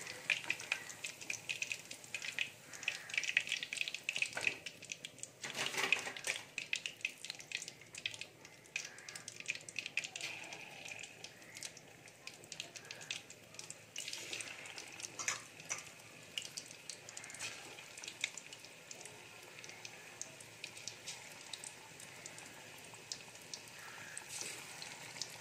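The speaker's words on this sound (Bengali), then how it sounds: "ওই জন্য গ্যাসের ফ্লেমটা লো টু মিডিয়াম রেখে চিকেনগুলোকে ভেজে নিতে হবে।" Chicken pieces frying in oil over a low-medium gas flame give a steady, soft sizzle with fine crackling that runs throughout, fairly quiet, plus a brief louder burst of spatter partway through.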